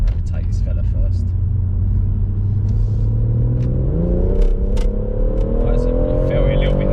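A BMW M140i Shadow Edition accelerates hard up a hill, its engine note climbing steadily in pitch as it pulls through the gear, heard from inside the car with a loud, constant rumble and some light background noise.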